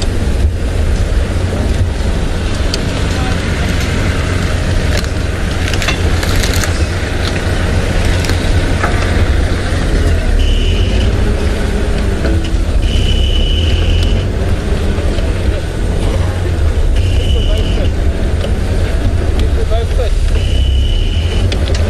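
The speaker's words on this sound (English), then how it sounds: "So just forgive me for a moment while I just reposition the car" An African safari vehicle rumbles as it is repositioned near leopards at sunset, with a steady engine drone, outdoor wind and a few short high beeps. Someone talks over it.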